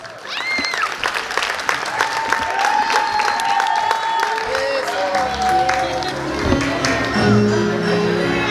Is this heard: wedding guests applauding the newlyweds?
yes